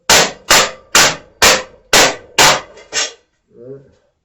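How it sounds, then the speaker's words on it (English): A dead blow hammer strikes sheet metal in a workshop, seven sharp, evenly spaced blows about half a second apart, loud and close, followed by a brief low vocal sound. "then I took the old dead blow hammer"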